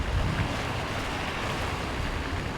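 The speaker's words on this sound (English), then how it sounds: "It's one of the nicest sounds in the world, isn't it? The sound of flowing water." A river or stream on a winter off-road trail rushes and hisses steadily, a broad continuous wash of flowing water with some wind noise, no voices.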